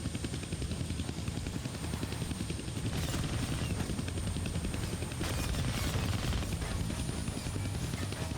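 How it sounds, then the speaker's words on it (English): A helicopter in the 2013 Deadpool PC video game gives a steady, loud rotor and engine drone that holds for the whole stretch, with no voices over it. "we gotta keep following the copter around"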